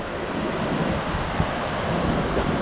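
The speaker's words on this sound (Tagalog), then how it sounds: "Medyo tahimik yung dagat ngayon." Ocean waves wash onto the beach at Baler at low tide on a calm sea, a steady, fairly loud surf wash blended with gusty wind buffeting the microphone, with no voices.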